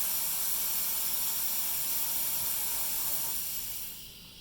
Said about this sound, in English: let's get some steam out